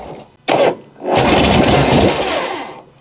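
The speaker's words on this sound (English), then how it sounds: "So that is how I will be starting the bike." A 1978 Harley-Davidson FX/FL Shovelhead motorcycle engine gives a short cranking burst, then catches and roars loudly up close for about two seconds before fading down.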